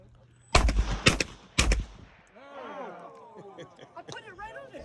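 Shotgun firing at clay targets outdoors: two loud, sharp blasts in quick succession, then a third shot about a second later, with a brief shooter's voice and faint chatter after the shots.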